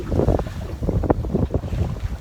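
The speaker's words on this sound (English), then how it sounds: "And now we're just sailing towards Kronborg." Sailboat under sail in the sound toward Kronborg, with strong gusty wind buffeting the microphone and water rushing past the hull, loud and close with no talk.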